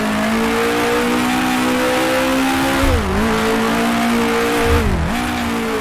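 A 1966 Formula One race car in Grand Prix Legends drones at steady high revs, then its engine pitch dips sharply twice as it drops down through the gears toward first, loud and close throughout.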